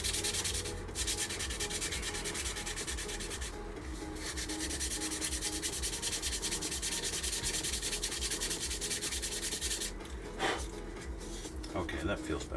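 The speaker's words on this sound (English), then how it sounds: "let's just sand this down" Plastic parts from a 1/48 scale F-22 Raptor model kit are sanded with steady, rapid rubbing strokes, close and continuous for the whole stretch, with brief pauses and a faint voice near the end.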